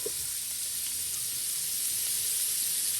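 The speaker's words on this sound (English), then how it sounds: "so now fry up the ackee in this" Ackee sizzles steadily in a hot oiled pan for a Jamaican ackee and saltfish dish, a constant close frying hiss with faint pops and no talking.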